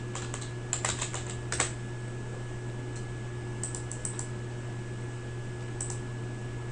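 Typing on a computer keyboard while entering values into spreadsheet cells, sparse clusters of soft key clicks with pauses between them, quiet and close over a steady electrical hum.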